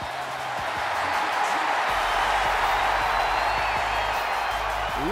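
Steady wash of crowd cheering and ovation from an arena audience in the WWE 2K23 wrestling game during a women's championship match featuring Bianca Belair, sustained and broad with no break across the stretch.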